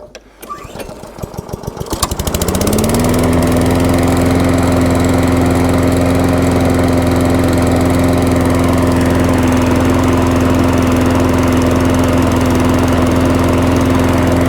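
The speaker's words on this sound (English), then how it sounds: "the lawnmower hopefully will now run exactly as it should do" 21-inch petrol lawnmower engine pulled into life, sputtering for a couple of seconds before settling into a loud, steady drone that runs unbroken and close.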